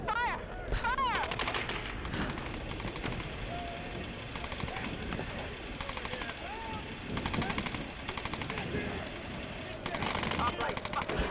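Gunfire rings out during a pier firefight in the 2013 Tomb Raider video game, with repeated automatic bursts and shots under loud, steady game noise and voices calling out.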